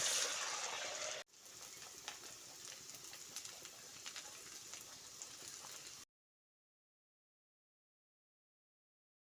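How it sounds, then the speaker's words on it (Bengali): Rice-flake luchi sizzling as it fries in hot oil, a steady bright crackle that briefly drops out, resumes for several seconds, then cuts off to silence. "লুচিটা ভেজে বা তুলে নিচ্ছি আরও একটা লুচি দিয়ে দিচ্ছি"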